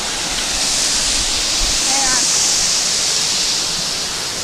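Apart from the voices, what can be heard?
150 ft waterfall at Scag Falls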